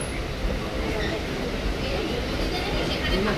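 Kanchan Kanya Express train rolling along with a steady, loud broadband rumble and rattle throughout, with faint voices and babble mixed into the noise.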